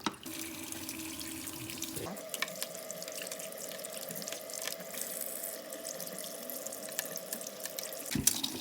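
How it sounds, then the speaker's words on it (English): Tap water runs steadily into a sink while paint brushes are rinsed under warm water, a continuous close gush with a brief interruption near the start and end, and no talking. "So let's go rinse in the sink."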